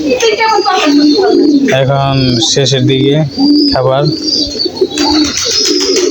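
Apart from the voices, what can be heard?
pigeons cooing and flying up while being fed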